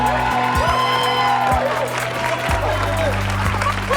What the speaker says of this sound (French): Je vous demande d'applaudir très très fort Nabil.